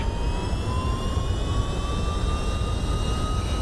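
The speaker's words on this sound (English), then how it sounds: "Hit the reversers. We've got a wet runway." A simulated MD-11 jet in X-Plane 12 rolls out on a wet runway after touchdown with thrust reversers engaged, a loud sustained engine roar and rumble with a slowly shifting whine, no voices.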